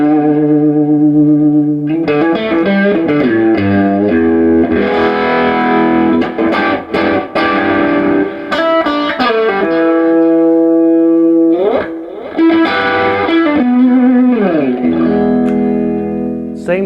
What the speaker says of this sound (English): if I put the tone up on this combination here, has that classic Stratocaster sound